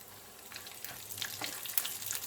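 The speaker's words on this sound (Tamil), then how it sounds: "முந்திரி பாதாம் கொஞ்சம் செவக்க வறுத்து வச்சுக்கலாம்." Cashews and almonds frying in ghee in a small pan, a faint, steady close sizzle with soft crackles and a few light stirring scrapes, no voices.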